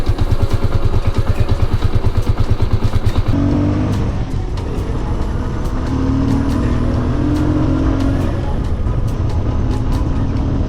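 A motorcycle engine ticks over at a fast, even idle just after starting at sunrise, then settles into a smoother, steady running drone with faint rises, close and fairly loud.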